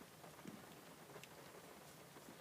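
Rain patters on the roof and windows of a car parked in a driveway, a steady, soft hiss of drops heard from inside the cabin with no voices.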